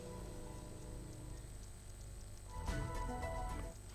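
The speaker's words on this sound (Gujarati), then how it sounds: "2 દિવસના વિરામ બાદ ફરી વખત ભાવનગરમાં મેઘરાજાએ કહી શકાય કે વરસવાનું શરૂ કર્યું છે" Rain falls over Bhavnagar as a faint, steady wash of patter under a low city hum, with a louder clattering burst toward the end.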